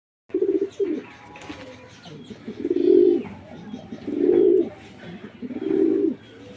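Racing pigeons coo in three loud, rhythmic swelling bursts, close by, with softer bird murmurs and chirps filling the gaps between them.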